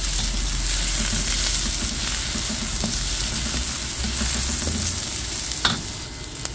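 Onion and garlic fry in a pan until caramelized with a steady, close sizzle that runs throughout, broken by a few light stirring knocks.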